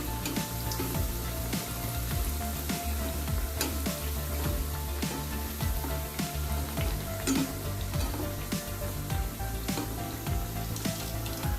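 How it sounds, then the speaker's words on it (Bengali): Soybean mughlai paratha frying in oil over a low flame, a continuous close sizzle with light crackles and occasional soft knocks of utensils, steady throughout and free of voices. "বানিয়ে রাখা মোগলাইটা তেলের মধ্যে আস্তে করে দিয়ে দিচ্ছি। এবার অল্প আঁচে ভাজতে হবে।"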